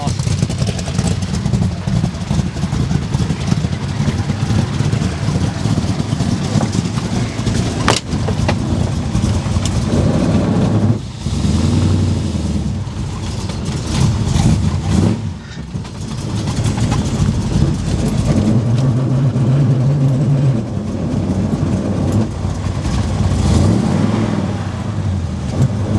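A 1969 Dodge Charger V8 engine runs steadily and loudly up close for the whole stretch, a continuous deep rumble with slight swells in revving and no pauses.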